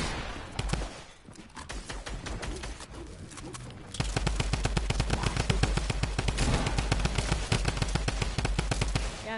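Rapid drum gun fire in a video game, a fast continuous burst of shots that starts lighter and grows louder and steadier after a few seconds, with no talk.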